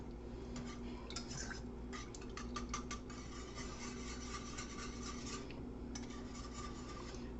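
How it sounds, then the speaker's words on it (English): A spoon scrapes and rasps around a bowl as a cup of milk is stirred into a funeral potato mixture, with steady scraping strokes close up and no talking. "We're going to give this a little bit of a stir."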